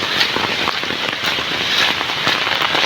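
Steady rain patters across open farm fields near a village, with green crops including eggplant beds; dense, continuous broadband hiss with scattered droplet ticks, close and loud throughout, no talking.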